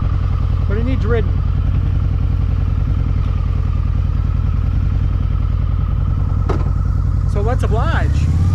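A 2004 Harley-Davidson motorcycle engine runs at a steady, loud idle throughout after a long period of sitting, with someone speaking over it at moments.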